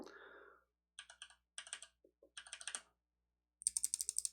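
Kailh Navy mechanical keyboard switches are typed on in short bursts, sharp close clicky keystrokes in quick clusters separated by pauses, with a brief murmur at the start.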